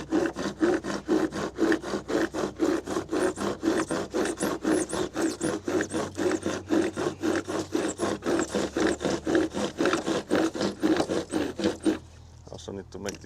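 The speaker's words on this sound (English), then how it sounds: "it's not just the insulation I'm sawing through." Fast, even hand-saw strokes rasp through soft insulation bricks up close, a long continuous rhythmic cutting that halts abruptly just before the end.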